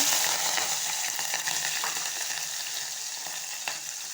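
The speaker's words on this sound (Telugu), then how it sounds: "ఆయిల్ అయితే వేడెక్కేసింది ఇప్పుడు అందులో జీలకర్ర పచ్చిమిర్చి" Cumin seeds and green chillies frying in hot oil in a home kitchen while cooking brinjal and tomato, giving a loud, steady, bright sizzle with crackles and small pops throughout, with no talking.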